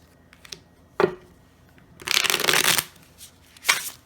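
A slippery deck of playing cards is handled and shuffled up close, with a few soft taps and clicks followed by a brisk riffle burst and a final short flutter, no talking.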